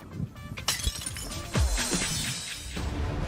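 Glass shattering as a sound effect in an IPL 2020 cricket broadcast, with several sharp crashes and tinkling fragments spilling over a few seconds, loud and close.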